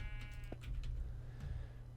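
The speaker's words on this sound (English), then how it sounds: "Hello, sheep. Sheep, do not stand just there." A sheep bleating twice in Minecraft, short faint cries over a steady low game hum, with no speech.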